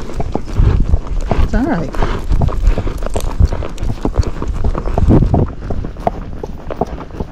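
A Missouri Fox Trotter mare walks down a road under a rider, hooves clopping in an uneven, close rhythm with a brief whinny-like sound, while a rider speaks briefly over the steps.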